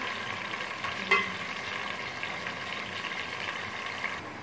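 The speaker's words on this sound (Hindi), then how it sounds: "इसको हम 2 से 3 मिनट फ्राई करते हैं ताकि इसका कलर चेंज हो जाए" Chunks of chicken and bottle gourd sizzle in hot oil in a pan, a steady, moderately quiet frying hiss with a single soft clink near the start.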